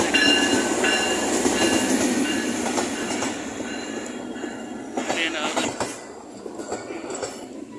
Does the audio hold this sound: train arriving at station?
yes